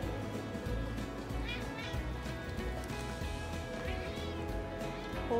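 A cat meows a few times, its cries rising over steady background noise and low clatter.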